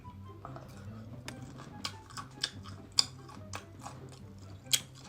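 Close-up chewing of food at home during a daytime beer snack, likely grilled gopchang with bibim noodles: soft, irregular mouth clicks and sharper crunchy bites over quiet background music.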